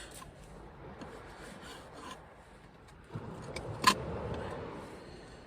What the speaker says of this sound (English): So I normally stick my knife up inside the squid and cut up